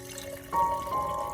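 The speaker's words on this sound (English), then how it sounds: "then pour in 1 liter of boiling water and gently stir" Boiling water poured from above into a glass jar of rice: a soft splashing pour starts partway through and runs on, fairly faint and close, with a faint tonal ring.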